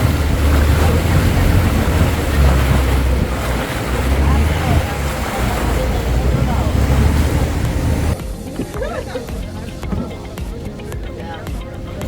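A boat motors across open sea near Maya Bay off Phi Phi Island, Thailand, its steady low engine rumble blending with rushing water and wind, loud and close throughout, easing slightly near the end.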